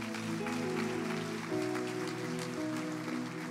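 A church congregation applauds, a dense steady patter of clapping heard under sustained music chords.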